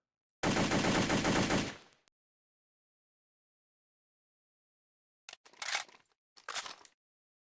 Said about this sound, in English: The first two rounds of hyperburst, the first two rounds of auto fire are hyperburst, and then every round after that is just normal fire.